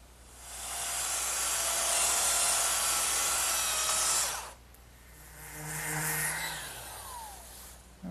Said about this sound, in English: so I'll just dress that up with my sander